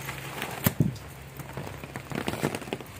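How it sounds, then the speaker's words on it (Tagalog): Rain falling during house construction on a wet day, a steady soft patter with a few sharper taps and knocks, moderate in level and heard on its own. "Ulan na ito, hindi talaga tumitigil."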